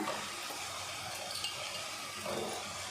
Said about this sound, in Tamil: மஷ்ரூம் சேர்த்துட்டு 2 நிமிஷத்துக்கு நல்லா வதக்கி விட்டுடலாம்